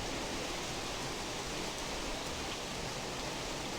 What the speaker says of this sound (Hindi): ये बारिश हो रही है